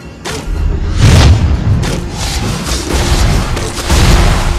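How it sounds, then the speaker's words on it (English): A turret being destroyed in the Mobile Legends video game, sounding as a loud, deep explosion with rumbling booms and crashing debris that sustain for several seconds, with no talk. "Our turret has been destroyed."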